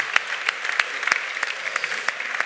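Audience applause at a conference session, a brisk, fairly close round of clapping with distinct sharp claps standing out over a continuous patter.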